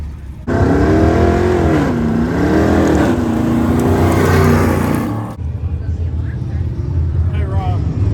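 A Ford Granada revs hard at a dirt drag race, its engine loud and close as it climbs and falls through several seconds of roaring before cutting back to idle, with people talking and crowd noise around it.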